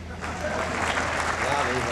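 An audience at a Hindi comedy poetry recital breaks into loud, sustained applause, a dense wash of many hands clapping throughout, close and full.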